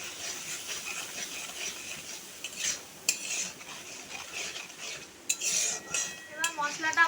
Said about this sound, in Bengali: পরিমাণ মতন নুন, পরিমাণ মতন হলুদ গুঁড়ো দিয়ে আমি মশলাটা ভালো করে কষিয়ে নেব